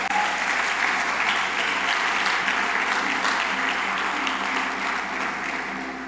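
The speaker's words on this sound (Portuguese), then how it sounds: "Você pode aplaudir o Senhor?" Congregation applauding during a church sermon, a full, sustained round of clapping from many hands that holds steady and then fades slightly toward the end, with no speech over it.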